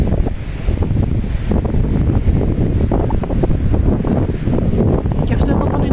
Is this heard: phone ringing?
no